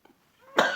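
A single sharp cough from a man preaching a religious class, close and abrupt, preceded by a faint throat sound and near silence.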